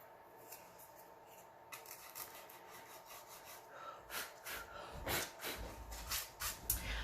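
A two-sided fine and coarse sanding file rubs across a small wooden craft piece, faint at first, then a run of short close scraping strokes in an uneven rhythm.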